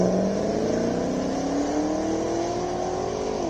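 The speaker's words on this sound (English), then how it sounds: "we see a Corvette making its way to the start line" A Corvette sports car rolling toward the start line at the Simola Hillclimb, its engine holding a steady droning note that rises slowly in pitch as it pulls forward, fairly close and alone without voices.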